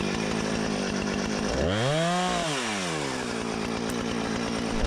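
A chainsaw runs steadily throughout, its engine revving up and then dropping back down midway as it bites into a wooden stump.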